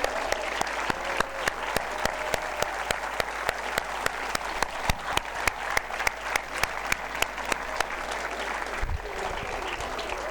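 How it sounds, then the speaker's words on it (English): Audience applause for cadets at a school annual day show, sustained and steady throughout with dense, even clapping from a large crowd and a brief louder swell near the end. "Please give them a great round of applause"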